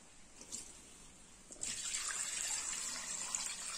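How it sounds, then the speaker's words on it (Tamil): Water gushes into a cooking pot holding turmeric, ginger, shallots and leaves for a steam bath, starting abruptly after a quiet pause and continuing as a steady, close splashing pour. "இப்போ இதல வந்து நம்ம தண்ணி சேர்த்திரலாம்"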